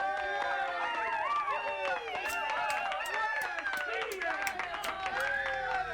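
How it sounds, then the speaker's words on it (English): A crowd at an esports tournament grand final claps and cheers, with scattered sharp claps under a constant mix of excited voices. "Let's have some clapping."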